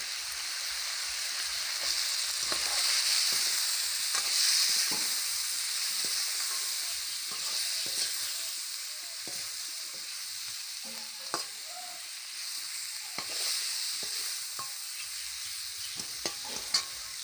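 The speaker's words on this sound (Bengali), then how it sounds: "মাংসটা ফ্রাই হয়ে গেছে হালকা।" Meat frying and sizzling in a pan, seasoned with salt and turmeric and stirred steadily, a continuous close hiss broken by scraping clicks of the spoon, with no voices.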